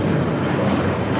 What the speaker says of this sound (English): The Breeze Airways Flight 103 heading back to Charleston. It's a brand new A220 300.